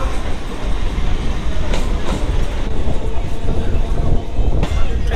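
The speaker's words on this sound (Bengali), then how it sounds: "ট্রেন ছেড়ে দিয়েছে, আপের" A local suburban train pulls out of a station on the line from Kolkata toward Namkhana, a steady loud rumble of wheels and carriages with rhythmic clatter running throughout, close by and without pause.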